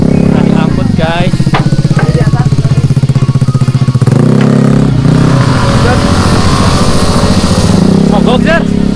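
Vespa scooter engine running close by, a loud, steady buzzing putter with shifts in pitch, heard under and between voices talking.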